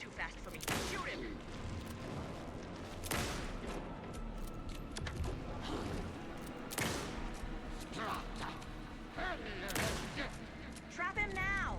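Rapid bursts of gunfire and booming shots ring out in the video game Alan Wake 2, repeated volleys over a dense, loud battle mix with characters shouting and talking throughout.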